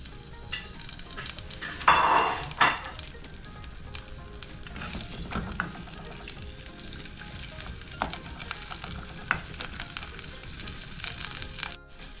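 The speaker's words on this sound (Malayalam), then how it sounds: "ചെറിയ ഉള്ളിയും അതുപോലെ ടൊമാറ്റോയും ഇതിലേക്ക് ആഡ് ചെയ്തിട്ട് ഒന്ന് വഴറ്റിയെടുക്കുക" Shallots and tomato sautéed in hot oil for a Kerala-style tuna fish curry, a moderate steady sizzle with occasional spoon scrapes and a brief louder clatter near the start, close and without talking.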